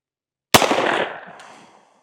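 A single loud, close pistol shot from an Echelon 4.0C or a Glock 19 Gen 5 at an outdoor range, a sharp crack that rings out and decays over about a second.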